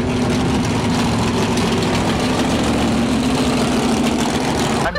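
A Bricklin sports car idles at a 1989 car show, its engine a steady, loud low rumble running without a break for several seconds before cutting off abruptly near the end.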